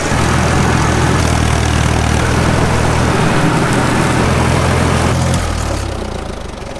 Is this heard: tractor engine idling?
yes